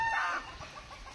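Chickens in a rural village grove give a short burst of clucking near the start, fairly close and clear, then fade into quieter background sounds.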